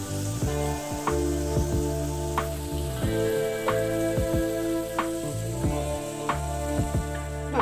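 Cashews fry lightly in hot oil left from frying aloo 65 potatoes, the stove already switched off, giving a close bubbling sizzle with sharp clinks and scrapes of a spoon against the pan.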